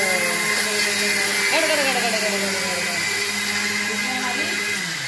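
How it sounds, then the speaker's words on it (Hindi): A mixer grinder grinding sugar whirs loudly and steadily, its motor pitch shifting slightly as it grinds, with faint voices underneath. "और जिसमें ये चल गई मिक्सी।"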